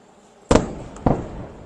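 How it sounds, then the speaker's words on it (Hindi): Two loud, sharp explosions from a missile attack on Tel Aviv, each a sudden booming blast followed by a rumbling decay, about half a second apart, with no voices over them. "जोरदार धमाके"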